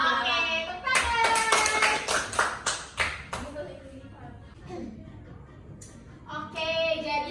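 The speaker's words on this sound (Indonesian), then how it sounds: "Oke, tepuk tangan" A class of fourth-grade primary schoolchildren clap their hands in bursts of sharp, quick claps, loud and close in a classroom, with a teacher's voice briefly heard between the bursts and ringing tones overhead.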